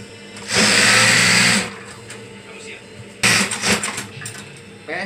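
A sewing machine stitches along the long edge of a foam-layered bed sheet, with a loud steady whir for about a second, then quiet, then another short run with uneven bursts.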